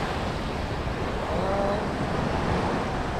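Steady ocean surf at La Jolla during a kayaking outing, a continuous wash of waves mixed with wind buffeting the microphone, fairly loud and unbroken throughout.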